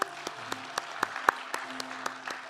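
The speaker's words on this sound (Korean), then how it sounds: "우리의 예배를 기뻐하시는 하나님께 우리 감사의 박수를 올려드리겠습니다." A church congregation claps in slow unison at a Sunday service, giving about ten sharp, evenly spaced claps with faint organ or keyboard tones underneath.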